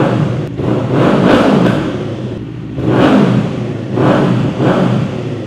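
A 2024 Kawasaki Eliminator two-cylinder motorcycle fitted with an Akrapovic-copy exhaust revs up in three swelling bursts, each rising and falling back toward idle, moderately loud and close with no talking.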